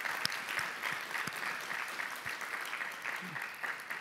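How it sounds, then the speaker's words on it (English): A conference audience at a summit closing address gives quiet, scattered clapping, with individual claps standing out against a faint room murmur. "why we were clapping"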